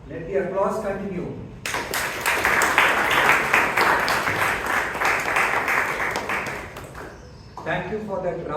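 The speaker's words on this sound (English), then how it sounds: "Let the applause continue." Audience applause breaks out at a Toastmasters club term-end meeting after a rousing speech, a dense wash of clapping lasting several seconds, with talk just before and after it.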